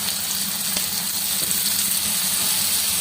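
Washed fenugreek leaves hitting a hot pan, a steady dense sizzle and hiss of frying, close and even throughout with no talk.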